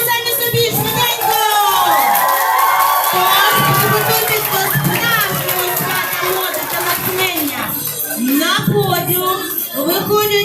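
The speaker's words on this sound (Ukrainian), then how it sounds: "Аплодуємо!" A large audience at an autumn fashion show claps and cheers loudly and continuously, with whoops and excited shouting, including children's voices, throughout.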